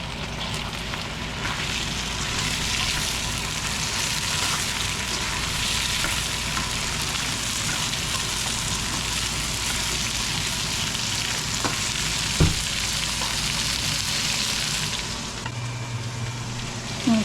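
Hotdog sausage fries in a pan for pork kaldereta. The sizzle is loud, constant and crackling, like rain, with faint stirring scrapes and one sharp clink near the end.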